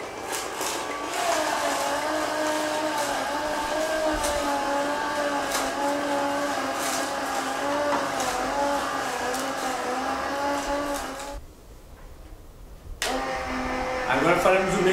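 A centrifugal juicer whirs loudly and steadily with a high motor whine and shifting harmonic tones, cutting out briefly before starting again near the end.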